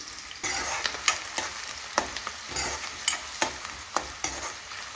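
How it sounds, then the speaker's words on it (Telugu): Chopped onions and green chillies fry in a generous amount of hot oil for a korameenu fish curry, giving a steady loud sizzle broken by repeated sharp scraping knocks from a spoon stirring the pan. "ఆయిల్ హీట్ ఎక్కాక మనం కట్ చేసి పెట్టుకున్న ఆనియన్స్, పచ్చిమిర్చి ఇందులో వేసేసుకోండి."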